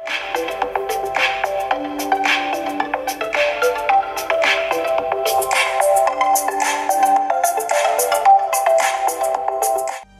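A ringtone melody plays through the small built-in speaker of an Advan Tab Sketsa tablet, a bright, steady tune of repeated chiming notes running about ten seconds before cutting off, with no talking.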